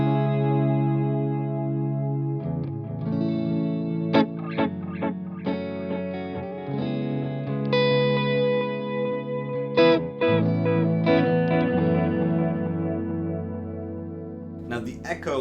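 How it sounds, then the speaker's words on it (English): Guitar runs through an Electro-Harmonix Canyon delay and looper pedal with modulation on the repeats, sustained chords and picked notes swirling and wobbling with lingering echoes, loud and close without talk. "So then the delay time control controls the modulation,"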